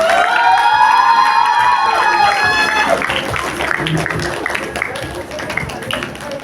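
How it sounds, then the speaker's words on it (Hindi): A crowd of schoolchildren at a district basketball tournament closing ceremony shouts and cheers with high drawn-out voices at first, then settles into a dense wash of clapping and chatter. "जोरदार तालियां बजाइए आप।"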